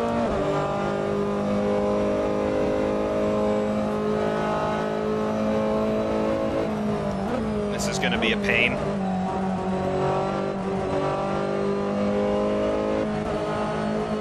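Race car engine in Assetto Corsa, a loud, continuous droning note holding steady throughout, with a brief squeal midway and someone talking over it.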